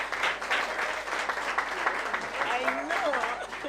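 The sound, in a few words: audience clapping for debate runners-up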